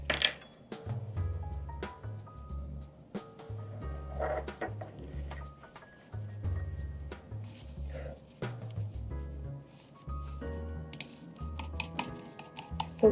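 Keys on a compact Epomaker TH40 40-percent keyboard clack in scattered, irregular taps over steady background music.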